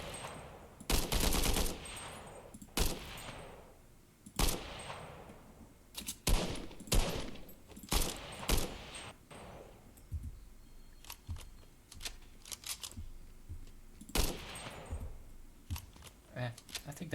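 Fortnite weapon fire rings out as a series of sharp, loud single gunshots spaced irregularly, some in quick pairs, with a person talking quietly between and under the shots.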